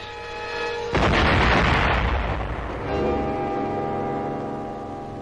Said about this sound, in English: A fury of robot and rocket weapons was unleashed against our front.